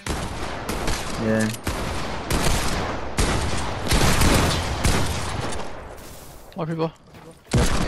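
Heavy automatic gunfire in a squad-based shooter video game, dense overlapping bursts filling most of the clip, with players briefly talking between shots.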